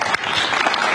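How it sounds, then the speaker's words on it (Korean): Journalists at a press conference break into steady, dense applause that fills the room for the whole moment, with faint voices underneath. "그 박수 안 치셔도 됩니다."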